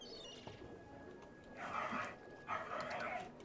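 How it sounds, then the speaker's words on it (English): A dog barks twice in quick succession, two short bursts about a second apart, heard faintly behind a Dungeons and Dragons tabletop session. "that's a dog"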